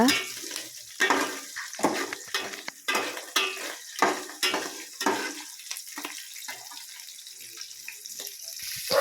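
Something fries and is stirred in a pan while cooking rava, with a steady sizzle under repeated scraping strokes of a spoon against the pan, close and fairly loud.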